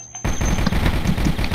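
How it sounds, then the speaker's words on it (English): Rapid gunfire from the video game Microvolts, a dense burst of loud, rattling shots following a brief quiet start, continuing steadily to the end. "I'm shooting him!"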